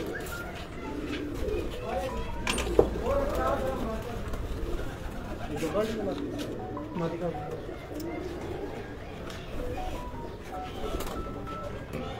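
Pigeons at a pigeon-flying event in Chenab Nagar coo repeatedly in soft, throaty rolls, close by, while people talk over them and a faint click sounds once.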